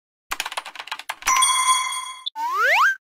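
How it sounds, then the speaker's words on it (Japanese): A doorbell-style chime rings in a comic animated skit, following a quick run of sharp tapping knocks; a long sustained tone gives way to a rising sweep, with no talking. "ピンポン。"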